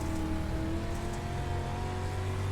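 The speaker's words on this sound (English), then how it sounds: "Let's hop in the car with the Missile as he makes his move to 2nd." A dirt track race car laps Fairbury speedway with the engine at a loud, sustained roar that holds a steady high-revving pitch throughout, heard up close with no talking.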